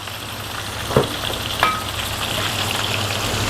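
Chili and shallots frying in hot oil give a steady, soft sizzle with a couple of faint ticks and pops, close by and with no talk over it.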